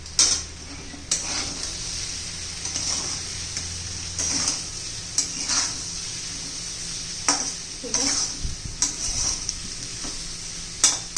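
Raw banana curry being stirred in a pan after salt goes in, with repeated spoon scrapes and clinks against the metal over a soft, steady sizzle, close and irregular.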